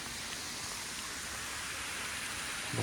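Rain falling steadily on a muddy hiking trail at Starved Rock State Park on a cold day, a soft continuous hiss with no pauses, fairly quiet.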